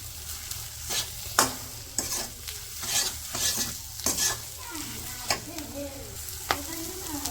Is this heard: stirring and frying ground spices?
yes